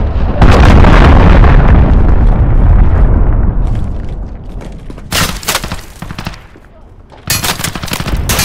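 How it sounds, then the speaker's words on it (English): A cruise missile strike in the Call of Duty: Modern Warfare beta: a loud, close explosion with a rumbling roar that slowly fades, followed by scattered sharp bursts of gunfire. "Cruise missile incoming,"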